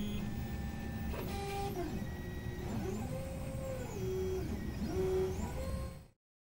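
A ZEUS 3D printer begins its print after nozzle cleaning, stepper motors whining through rising and falling tones and short sustained pitches, close and steady, before cutting off abruptly near the end.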